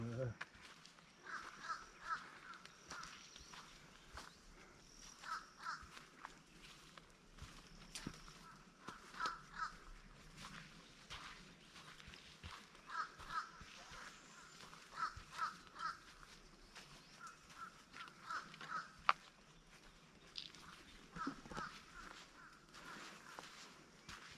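Birds call and chatter on and off from a short distance, with crow-like caws among them, over faint footsteps and outdoor rustling.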